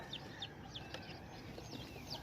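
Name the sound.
pure Indonesian Black Tongue chicken chicks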